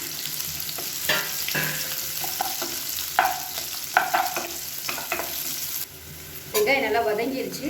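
Finely chopped large onions with curry leaves sizzle and fry in a pan, stirred now and then with sharp scraping clicks over a steady crackling sizzle.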